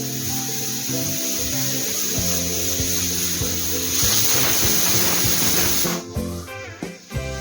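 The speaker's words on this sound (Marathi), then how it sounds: "एक शिट्टी झाली, आता आपला कुकर बंद होणार आहे." A pressure cooker on a medium gas flame lets off its whistle: a loud, close hissing rush of steam with tonal whistling that peaks midway, then breaks up and fades in sputters, with no voices.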